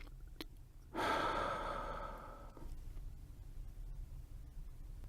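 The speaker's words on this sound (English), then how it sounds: "Inhale through your nose and exhale through your mouth, releasing the breath fully." One deep breath during a guided meditation, a long airy exhale lasting about a second and a half that fades out, close and alone, with quiet room noise around it.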